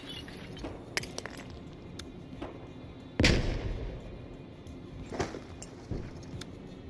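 A frag grenade goes off in the tactical shooter Door Kickers 2, one loud broadband blast about midway that decays over a second, among scattered smaller gunfire-like clicks and thumps.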